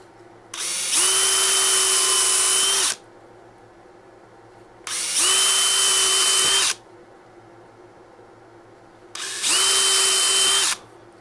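A power drill whines loudly in three separate bursts of about two seconds each, drilling holes in wood, with quiet pauses between them.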